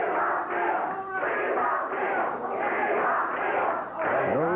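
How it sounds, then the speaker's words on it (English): A wrestling arena crowd at a 1985 Memphis match hollers and chants in a steady, rolling rhythm, loud and dense, with surges of massed voices filling the whole space. "Well, the crowd's hollering, we want Bill."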